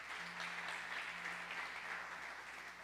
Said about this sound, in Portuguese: Você pode aplaudir e ficar de pé?